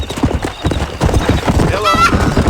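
Horse in a video game clip-clopping at a gallop with a whinny partway through, loud and close, mixed with a voice calling out over the hoofbeats.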